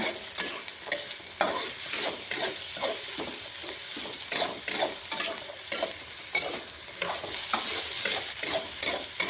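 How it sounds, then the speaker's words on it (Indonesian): Spices sautéed in a pan for a rice dish, a steady loud sizzle with repeated scraping and stirring strokes throughout, close up and without voices. "Ini nanti kita angkat baru kita tumis bumbu ya"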